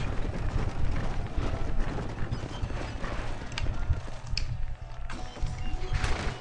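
Horse-drawn wagon in Red Dead Redemption, hooves clip-clopping in a steady trotting rhythm with wheels and harness rattling close by throughout, a few brief clinks over the top.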